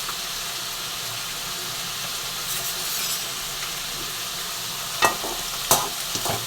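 Steady sizzling of bitter gourd frying in oil with curry leaves, with occasional sharp clinks of a utensil stirring against the pan.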